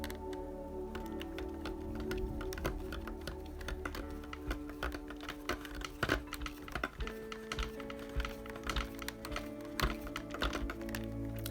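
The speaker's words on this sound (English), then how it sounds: "And now we can screw this in." A screw is driven by hand into a soft-plastic front damper mount on a Tamiya Toyota Hilux Extra Cab model kit, giving a steady run of small, close ticks and clicks over a constant low hum.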